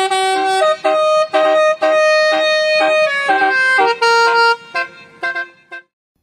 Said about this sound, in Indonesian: Ini adalah salah satu irama dari klakson yang saat ini dikenal dengan nama basuri.